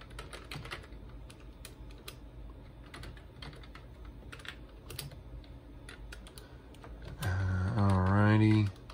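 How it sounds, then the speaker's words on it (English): Typing on a computer keyboard, a quick run of close, irregular key clicks and taps, followed near the end by a louder droning tonal sound over the keys. "Trying to use my keyboard with this camera in front of me."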